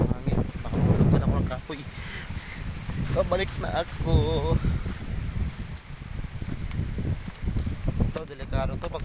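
Strong typhoon Ulysses wind sweeping past a hut and banana plants, a gusty, rumbling roar that keeps up throughout while a voice talks over it.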